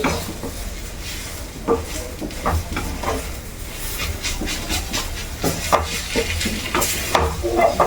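Tomato frying in a pan for home-style chicken curry, with a moderate close sizzle, hiss and steam, plus intermittent stirring clinks and scrapes against the pan.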